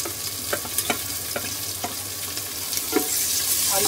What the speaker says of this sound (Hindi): इसको गोल्डन होने तक फ्राई कर लेंगे।